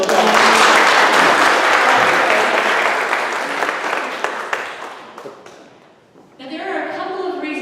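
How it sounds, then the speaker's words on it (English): Church congregation applauding loudly for several seconds, the clapping slowly thinning and fading out before a new burst of lighter clapping and voices rises at the end. "Let's give him a round of applause."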